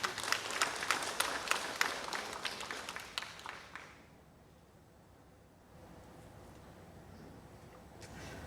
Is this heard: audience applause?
yes